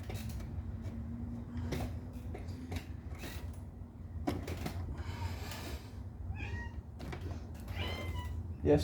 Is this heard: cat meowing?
yes